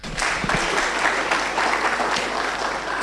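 Steady, dense applause from a graduation audience at a data protection certificate ceremony, filling the hall at an even level throughout.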